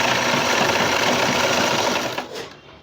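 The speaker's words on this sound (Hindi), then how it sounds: "रुमाली के पास से सिलाई को हमने शुरू कर लिया है" Sewing machine stitching the side seam of a churidar pajami, a loud, continuous close-up whir that runs steadily and then slows and fades to a stop near the end.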